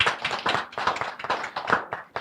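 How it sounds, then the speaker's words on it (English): Scattered clapping from a small audience at a talk on health care for people with intellectual disability, a brief burst of hand claps lasting about two seconds, moderately loud and close, with no talking over it. "I think that deserves a round of applause."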